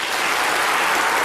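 Lecture-hall audience clapping at a science lecture, a dense, loud burst of applause from many hands, sustained evenly for the whole moment.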